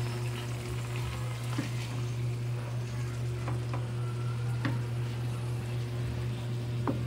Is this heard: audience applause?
no